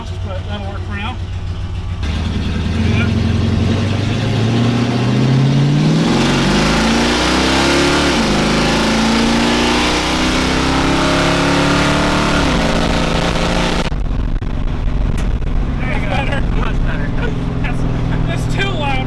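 Engine of a General Mayhem clone car running loud with little exhaust, revving up and holding a loud roar for several seconds before dropping back to a rough idle, with people talking over it.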